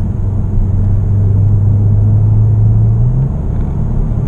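A Volkswagen Arteon R-Line with a 2.0 TDI diesel engine pulls hard under acceleration, a steady low rumble that rises slightly in pitch before settling, heard from inside the car with no talk.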